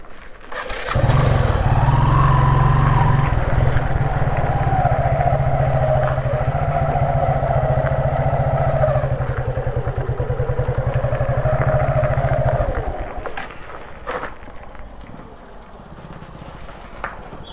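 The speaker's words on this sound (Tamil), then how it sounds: "அங்கே ஒரு வண்டி வருது" A motor vehicle comes along a road, its engine swelling to a loud, steady drone that holds for several seconds, then drops away, leaving quieter background sounds and a few faint knocks.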